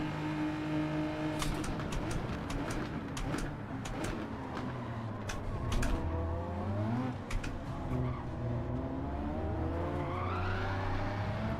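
Tyres squeal and skid on a car in the video game Gran Turismo 7, over a steady engine drone with rising and falling pitch and scattered sharp clicks.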